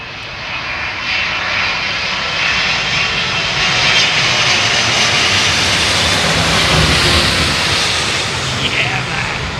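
A large airliner roars loudly and steadily overhead at London Heathrow Airport, a broad continuous jet rumble with someone talking over it.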